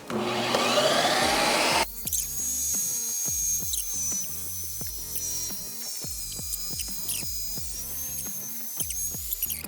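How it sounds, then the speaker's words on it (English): A loud ice cream maker on its light ice cream setting whirs and grinds steadily after a brief rising whine at the start, with a constant high motor drone and irregular knocking underneath. "we're gonna hit the light ice cream setting. It's gonna be kind of loud"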